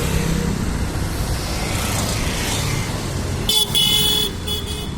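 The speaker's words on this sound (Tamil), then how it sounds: "நிறையா போக்குவரத்து இருக்குது." Heavy evening road traffic hums and roars close by at sunset on a busy road. A car horn blares for under a second near the end over the steady engine noise.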